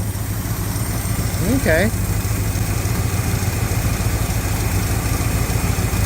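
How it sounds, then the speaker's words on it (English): An engine idles roughly, missing on one cylinder, with a steady loud low drone and an uneven pulse running throughout; someone says a word briefly over it. "Sure looks like we're missing on a cylinder."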